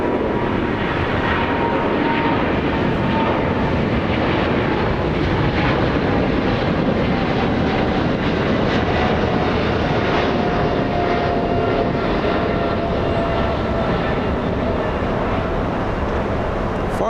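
A China Southern Cargo freighter jet departs Los Angeles International Airport, its engines producing a loud, sustained broadband roar with a faint whine that holds for the whole stretch, without voices.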